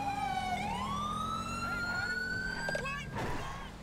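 A police car siren in GTA V with the LSPDFR mod wails loud and close, sweeping up in pitch and then cutting off, with engine rumble underneath.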